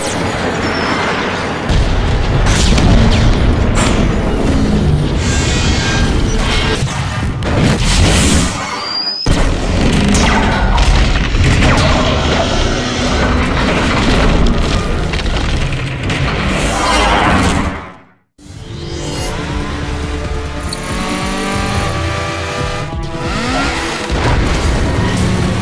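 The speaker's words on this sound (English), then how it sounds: "Finally, the bridge is destroyed." A bridge is blown apart by explosions during a Transformers video game battle, heard as loud, continuous booming blasts and crashing debris. A brief dropout comes partway through before the roaring destruction resumes.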